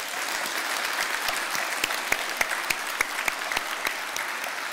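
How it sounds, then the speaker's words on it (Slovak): An audience at a Slovak youth science festival awards ceremony breaks into sustained applause, a dense, even wash of many hands clapping at moderate distance, with no voices over it. "Takže poprosím vás pre nich jeden veľký potlesk."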